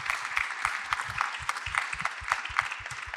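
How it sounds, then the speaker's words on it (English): Applause from a conference audience for panel participants at the close of a data protection session at CPDP 2026: a dense, steady patter of many hands clapping, moderately quiet and fairly distant, with no talk over it. "please join me in a big round of applause for our participants"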